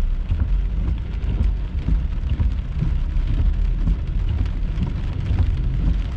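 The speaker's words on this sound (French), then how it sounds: "C'est pas mal de la pluie." Steady heavy rain pours down during a summer thunderstorm, a dense continuous wash of drops drumming on surfaces with low rumbling underneath, loud and unbroken throughout.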